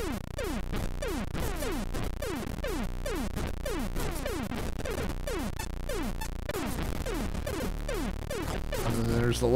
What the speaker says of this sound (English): there's the little sound you heard of the droid hatch opening